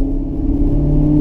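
A Maserati GranCabrio MC Stradale's 4.7-liter V8 in sports mode with valves open gives a steady, loud, deep rumbling drone that holds constant throughout, with no talking.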